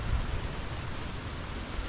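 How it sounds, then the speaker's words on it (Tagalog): Steady rain pours down at the seaside, a dense, even hiss of drops close by with no break or speech across the whole stretch. "Ganito na ulan."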